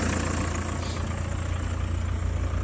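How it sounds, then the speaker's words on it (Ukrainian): An Audi A4 B5 with a 1.9 turbodiesel engine idles steadily in winter weather, a low, even diesel rumble with a faint rhythmic knock, close and continuous without talk. "Машинка вже працює, підключена до нашої системи водневої очистки близько 40 хвилин."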